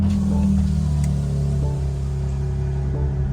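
A G80 BMW M3 Competition with a Carbahn exhaust fires up, settling into a loud, steady, deep idle rumble close by.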